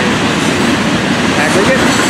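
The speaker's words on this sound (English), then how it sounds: "The train being towed by dispatch." A loud FEC freight train with aggregate and box cars rolls past close by, its wheels rumbling continuously with clickety-clack and faint squeals.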